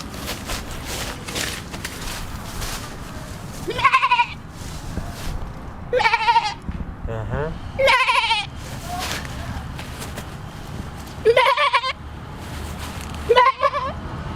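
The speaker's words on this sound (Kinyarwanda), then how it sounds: "Ihene yishimye kabisa." Goats bleat in a series of separate loud, wavering calls spaced a few seconds apart, heard close over a steady background of outdoor noise and movement.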